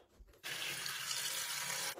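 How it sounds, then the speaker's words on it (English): Warm water gushes steadily from a tap into a container, a continuous close rushing splash that starts abruptly and runs without pause. "Let's put some water in this bad boy. Now, I'm going to use warm water"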